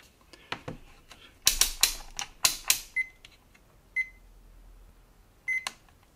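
Short electronic beeps sound from a multimeter continuity test on an ESP32-S2 circuit board, several isolated tones spaced a second or so apart, mixed with nearby clicks and handling taps.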